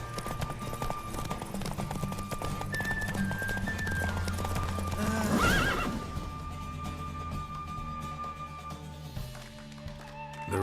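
The horse Roach galloping in a race in the video game The Witcher 3: rapid rhythmic hoofbeats run continuously over game music, with a loud whinny near the middle and the pounding gait carrying on afterward.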